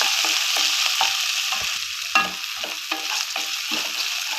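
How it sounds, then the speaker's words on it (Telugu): Finely chopped green chillies and garlic sizzle steadily in hot oil, with a bright continuous frying hiss broken by frequent scraping stirs of a spatula, close and loud with no talking. "వెల్లుల్లి వేగిన తర్వాత 10 పచ్చిమిర్చి సన్నగా తరిగిపెట్టి వేస్తున్నాను"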